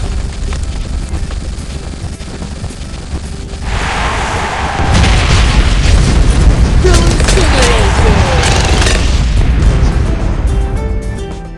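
Fire bomb explosions boom and crackle in the tower-defense video game Bloons TD 6, building into a loud continuous rumble of blasts mixed with game effects, with no speech.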